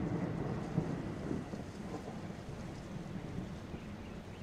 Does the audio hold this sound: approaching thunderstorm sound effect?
yes